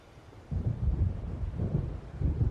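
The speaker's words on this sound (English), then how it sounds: "It seems there's a storm coming." Low, rolling thunder from an approaching storm in the video game Alan Wake Remastered, with a dull rumble swelling after a quiet start and continuing in heavy waves, moderately loud with no talk.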